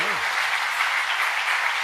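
An audience at a Shiv Puran religious discourse breaks into dense, steady applause that holds loud throughout, with a brief voice at the very start.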